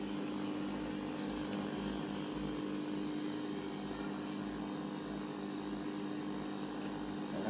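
A running electric body massage machine with feet resting on it, giving a steady, close mechanical drone with a low rhythmic pulsing throughout, no talk.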